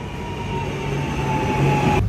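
A train travels between the Cinque Terre villages in Italy, a steady loud rumble and rolling hum of wheels on track heard from inside, continuous throughout with no talk.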